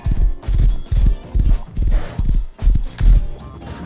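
Horse hooves in the game Rust, a loud rhythmic clip-clop of a galloping horse close by with a neigh partway through, no speech over it.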